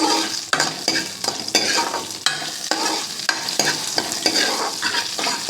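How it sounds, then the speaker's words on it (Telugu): Tempering of moringa leaves, garlic, onion, green chillies, turmeric and asafoetida fries in a pan with a steady, close sizzle, broken by several sharp stirring scrapes; no voices. "ఇలా ఫ్రై అవుతుంటాయండి, మీకు చూపిస్తాను"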